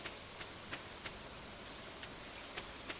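Soft steady rainfall in Stardew Valley, a faint even hiss with scattered light drip ticks and no voices.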